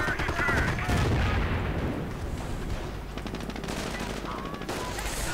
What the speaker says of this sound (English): building and coming under fire from that Sherman